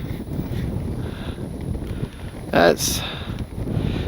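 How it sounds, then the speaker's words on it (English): Strong wind buffets the microphone at an RC plane flying field where an E-flite Commander MPD is being flown, a constant roaring rumble with a louder gust burst near the end, under a voice. "is so windy"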